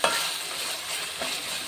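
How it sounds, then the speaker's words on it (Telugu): Spices sizzle in hot oil for an Andhra-style fish curry while a spoon stirs them, giving a steady, close frying hiss with soft scraping strokes near the start and again toward the end. "కొంచెం పచ్చివాసన పోయే వరకు వేసుకుందాం, కొద్దిగా వేసుకుందాం."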